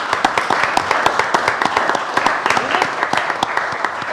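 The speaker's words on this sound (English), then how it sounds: "Let's give him another round of applause." A council meeting audience breaks into a round of applause, sharp individual claps standing out in a steady rhythmic patter that continues evenly for several seconds at close range.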